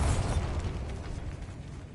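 A Bombarda blasting spell in the Hogwarts Legacy video game goes off inside a decayed catacomb, a deep low burst at the start that rumbles and fades into a dull, noisy tail.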